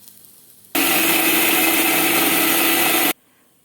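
A kitchen mixer grinder whirs loudly for about two and a half seconds, grinding fried ingredients for a basale (Malabar spinach) curry, then cuts off abruptly, with quiet room sound before and after.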